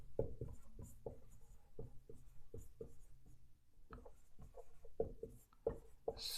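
Handwriting strokes as a definition is written out during a math lesson on squares: quiet, close, irregular scratches and taps in short bursts with brief pauses, no talking.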